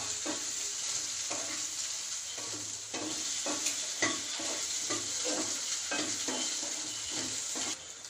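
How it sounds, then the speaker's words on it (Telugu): Egg frying in a pan for egg noodles sizzles steadily throughout, broken by repeated scraping stir strokes at a fairly even rhythm, close and moderately loud with no talking. "ఇప్పుడు ఎగ్ బాగా ఫ్రై అయింది కదండి"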